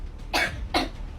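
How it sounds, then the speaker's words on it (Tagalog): Two sharp coughs from one person about half a second apart, close and fairly loud, over faint background noise. "tas umubo ka"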